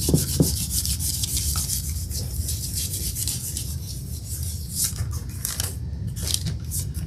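A rag rubs back and forth over painted wood, sanding away layers for a distressed faux finish, giving a steady close scratchy friction with a few sharper scuffs.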